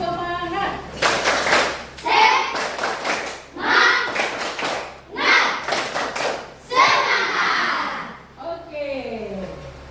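A class of schoolchildren does a rhythmic spirit clap, loud close bursts of patterned clapping in quick groups, separated by short pauses, with children's voices chanting along.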